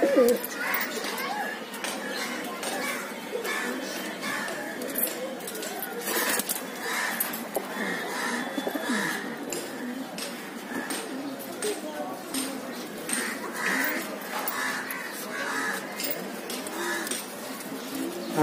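Pigeons coo steadily inside a loft housing many birds, a dense layered murmur of overlapping calls with occasional clinks and a person talking throughout.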